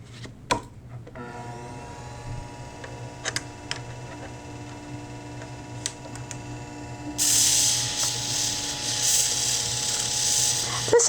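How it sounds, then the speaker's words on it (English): A small Scimech Jr shear sharpening machine fitted with a 400 grit wheel hums steadily with light mechanical ticks, then a louder grinding hiss sets in partway through as a blade meets the wheel. "This little machine will do a good job sharpening."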